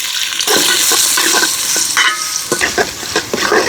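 Chopped onion with cinnamon, cardamom and bay leaves frying in oil in a karahi on a village stove, a loud steady sizzle broken by repeated spatula scrapes and stirs; no talking.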